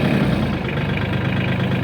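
A Mahindra Max 26 XL compact tractor idles at about 900 to 1,000 RPM, a steady, loud, close diesel rumble without pauses or changes in speed.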